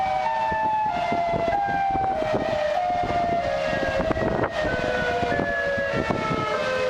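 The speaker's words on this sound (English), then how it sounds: "Tornado sirens in Chicago." Loud wailing tornado sirens in Chicago rise and fall in long overlapping tones, with a steady rumble of wind or rain beneath them.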